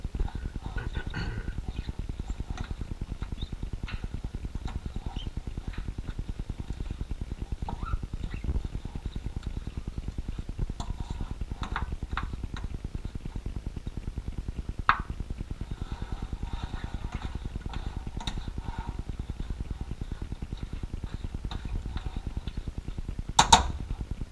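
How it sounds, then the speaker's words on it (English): Cooked ground turkey is broken up with a utensil in a hot pan, making a continuous low rumbling sizzle with sparse light clinks and scrapes and a sharper knock near the end. "we're going to break down the turkey into a little more bite-sized, friendly-sized pieces"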